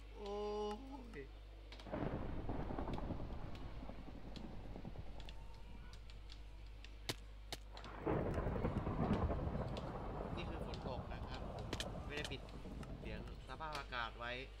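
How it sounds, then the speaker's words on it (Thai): Rain and thunder in the video game Minecraft: deep, continuous rumbling with a steady wash of rain noise, and a louder surge partway through, all under an excited player talking. "ฝนทะลักเข้ามาได้ไงเนี่ย"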